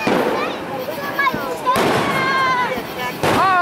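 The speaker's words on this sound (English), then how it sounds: "We have late fireworks, sir." Fireworks at a Fourth of July celebration bang and crackle repeatedly, with sharp reports and whistling streaks, while voices talk and shout nearby.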